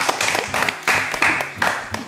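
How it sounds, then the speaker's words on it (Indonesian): An audience at a talk with national marathon athletes claps in a loud, short burst. A few uneven surges rise over about two seconds, with faint voices mixed in. "Kasih tepuk tangan dulu."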